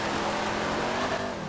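A drift car's engine revs loudly and steadily in The Crew racing game, a continuous roar that eases off slightly at the end, with no talk over it.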